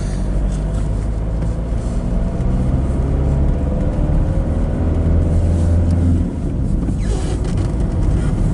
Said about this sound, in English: works better if I keep the engine running